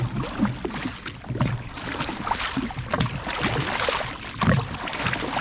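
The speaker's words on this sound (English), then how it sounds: "I'm now paddling with my foot." Foot paddling in cold lake water beside a Polaris SL750 jet ski, rhythmic splashes and swishes close by, mixed with wind buffeting the microphone and lapping water.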